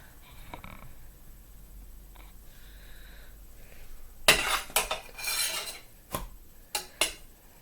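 A Jack Skellington dishware plate is set down, with a cluster of loud, close clatters and scrapes of crockery, followed by a few sharper isolated clinks.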